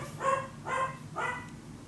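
A dog barks three times at an even pace, moderately close and fairly loud, each bark short and sharp with quiet gaps between; no one speaks.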